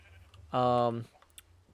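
A Minecraft sheep gives one loud, clear bleat lasting about half a second, with faint keyboard clicks and quiet background before and after.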